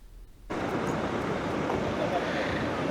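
Strong wind at Peel harbour on the Isle of Man roars into the microphone after a brief quieter moment, a loud, steady broadband rush that continues without letup.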